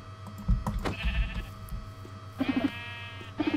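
Several sheep bleating in Minecraft, a few short wavering bleats spaced out over a low background hum, with light clicks and bumps of play in between.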